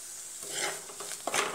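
Spice powder roasting in hot oil for Kottayam-style fish curry, a soft sizzle under light stirring with a couple of faint utensil scrapes near the end.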